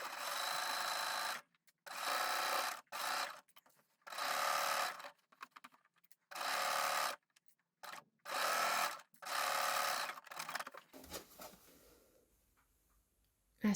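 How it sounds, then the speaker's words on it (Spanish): A sewing machine stitches the hem along one side of a zero-waste fabric eco bag, running in several separate bursts of steady whirring with short pauses between them, close and alone. "Cosemos el dobladillo en uno de los lados, en el lado donde no está el bolsillo."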